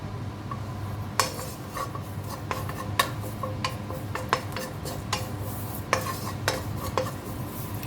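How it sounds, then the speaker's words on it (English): Curry leaves dry roasting in a pan over a medium flame while making spicy biscuits, with a steady low hum and scattered utensil clinks and scrapes against the pan, moderately quiet. "just a little bit of curry leaves, roast it"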